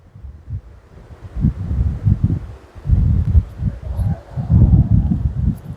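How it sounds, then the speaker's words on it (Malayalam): Wind blows at the Bhavani River in Attapadi and buffets the microphone. The gusts come as loud, low rumbling bursts that rise and fall unevenly. "ആ പെട്ടെന്നൊരു തണുപ്പ് അടിച്ച് നല്ല കാറ്റും ഉഷാറായി"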